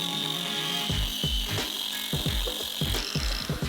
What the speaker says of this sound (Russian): И остается только зашлифовать болгаркой.